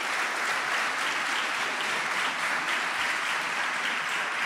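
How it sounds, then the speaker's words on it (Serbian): An audience at a formal awards ceremony in a church crypt applauds a prize-winning student, a dense, even clapping from many hands that holds steady throughout without speech. "Može aplauz."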